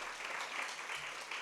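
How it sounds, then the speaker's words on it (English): An audience applauds folk dance performers at a cultural centre, with brief, steady, fairly faint clapping that is heard alone. "Give a big round of applause for all the performers"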